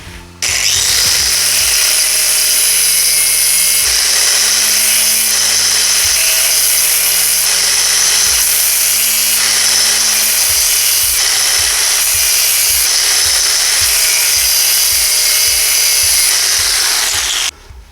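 An angle grinder cuts at a Suzuki RF900 motorcycle headstock bearing, a loud, steady high-pitched whine running almost continuously for about sixteen seconds with slight shifts in pitch as it bites.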